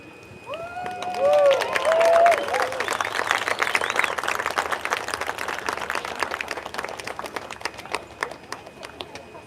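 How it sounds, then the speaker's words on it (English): Audience applause following a road crash rescue demonstration at a fire and rescue college graduation: a dense crowd of clapping hands rising quickly and sustained for several seconds, with cheers and voices near the start, then gradually thinning and fading. "I think they all deserve another big round of applause"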